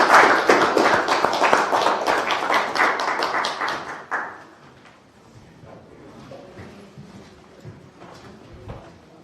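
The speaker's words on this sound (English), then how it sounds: "If you can give yourselves a round of applause." A town hall audience gives a round of applause that runs strong for about four seconds, then thins to a few scattered claps and room murmur.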